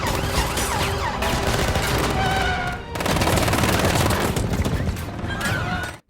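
Gunfire rings out during a film car chase, dense overlapping shots and loud action effects filling the whole stretch with barely a pause, mixed with engine roar and chaotic crashing.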